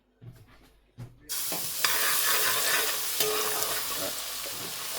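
Garlic dropped into hot oil for a fish sherva curry, setting off a loud, steady sizzle that starts abruptly after a couple of soft knocks and keeps crackling evenly near the pan, with no talking.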